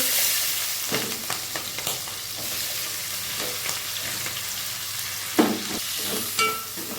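Onions frying in hot oil with cumin, mustard seeds and fenugreek for an ivy gourd and egg curry, giving a steady close sizzle broken by scrapes and clatters of stirring, with no talk.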